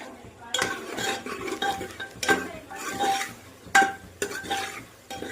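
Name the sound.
stirring spiced rice mixture in a pot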